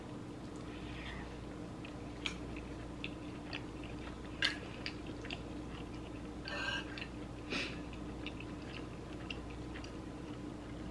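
Someone eats frijoles charros, a bean dish, with close, quiet, wet chewing and occasional small clicks and smacks repeating irregularly over a low steady background hum, with no talking.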